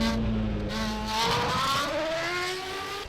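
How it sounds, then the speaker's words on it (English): A 1993-94 Formula 1 car engine in rFactor 2 screams at high revs, its pitch climbing through gears as the racer accelerates, loud and close. "Nice sounding car. Sounds good."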